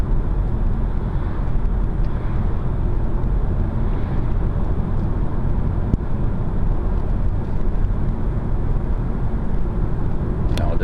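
A quiet, smooth 2024 car cruises along a country road, giving a steady, even hum of engine and road noise with light wind rush and no talking.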